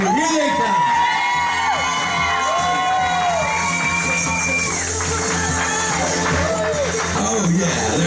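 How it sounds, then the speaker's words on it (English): Wedding reception guests cheer, whoop and shout as the newlyweds, Mr. and Mrs. Clint Hyneman, make their entrance. The crowd noise is loud and sustained for the whole stretch, with high whoops rising above a dense wash of voices. "Big round of applause there."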